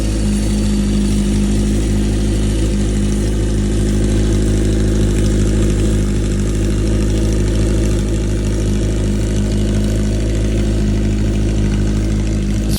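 A Honda CB750 motorcycle fitted with Japanese exhaust pipes idles steadily at close range, a low even rumble holding without change throughout, with no talking over it.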